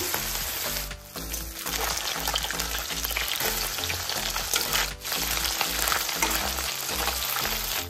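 Loud, steady sizzling of fish frying in hot oil, continuous and close, with a brief dip near the start and occasional crackles.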